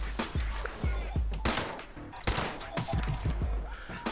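Gunfire in the video game Fallout 76 rings out as a rapid string of loud, punchy shots, several bursts firing close together with a brief lull midway.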